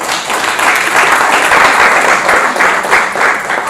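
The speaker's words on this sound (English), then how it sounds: "let's give ourselves a round of applause" Audience at a meeting applauding, a dense, steady round of many hands clapping close by, sustained throughout.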